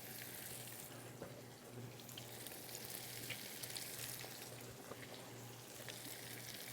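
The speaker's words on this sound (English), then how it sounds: "And that butter is already browning. Look, watch this. We're going to get our skin side down." Halibut fillet laid skin side down in a pan of browning butter, giving a steady, fairly quiet sizzle and crackle that runs throughout with no voices over it.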